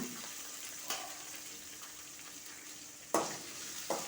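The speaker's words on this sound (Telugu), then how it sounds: "ఇప్పుడు పచ్చిమిర్చి వేస్తాను. ఇగో వేగనిస్తాను." Green chillies frying in hot oil, a faint steady sizzle with a few sharper crackles and pops breaking through, heard alone with no talking.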